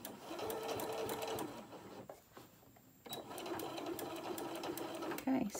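A home sewing machine stitches hot pads with a rapid, steady whir that stops for about a second midway and then resumes, close and clear, while someone talks over it.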